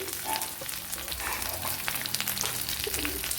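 Ginger and garlic frying in a pan for cauliflower varattiyathu: a dense, steady crackling sizzle with small pops, close and continuous, no talking.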